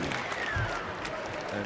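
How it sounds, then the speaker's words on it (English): Brief burst of crowd applause at an amateur boxing bout, a European Olympic qualifier, clapping steady and filling the hall after the fight ends. "both fighters get a round of applause here for putting up a great match"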